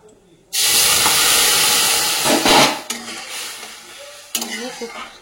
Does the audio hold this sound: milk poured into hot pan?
yes